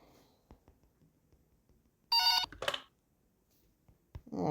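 A telephone rings in a horror video game, one loud trilling burst of bell-like tone followed by a shorter second pulse, standing out clearly against a quiet, near-silent background with faint low thumps.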